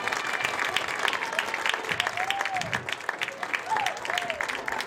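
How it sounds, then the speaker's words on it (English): A crowd at a high school football game applauds honored former team members, sustained clapping with scattered voices and cheers mixed in. "Let's give them a round of applause."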